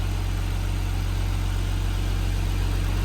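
A Nissan R34 Skyline sits at idle, its exhaust giving a continuous low, throbbing rumble layered with engine hum, steady and near throughout.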